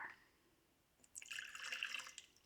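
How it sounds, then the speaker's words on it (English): Room-temperature water poured into a jar for a sourdough starter: after a quiet second, a soft, close trickling splash begins and runs on steadily, faint and alone. "Add water into jar."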